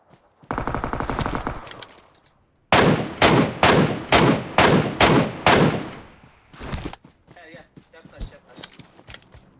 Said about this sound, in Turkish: Ben kafasına sıkıyorum adam sıkıyor.